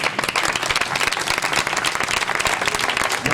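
A church congregation bursts into loud, sustained applause, dense clapping filling the room without a break.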